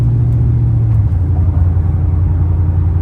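Steady low engine rumble and road noise from inside a car on a drive home across a bridge, loud and continuous with no talking.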